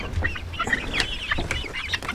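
Chicks in their coop after a flood give a busy stream of high, short chirps and cheeps overlapping close by, with a low background rumble beneath them.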